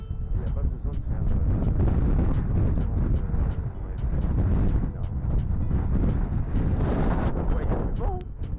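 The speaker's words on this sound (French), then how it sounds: "il y a du vent, il y a du vent de fou" Strong gusting wind outdoors near Marseille buffets the microphone with loud, rumbling bursts that surge and ease throughout, while a person talks underneath.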